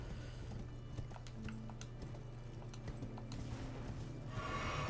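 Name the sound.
horse Torrent galloping in Elden Ring video game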